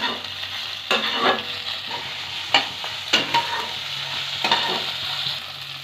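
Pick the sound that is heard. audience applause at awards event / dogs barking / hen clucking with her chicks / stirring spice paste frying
stirring spice paste frying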